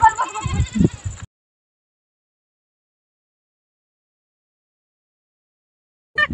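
A goat at a village farm gives a short, loud, quavering bleat close by, followed by a long silence and a brief burst of sound at the very end.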